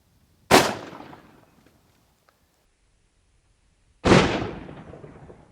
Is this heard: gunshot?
yes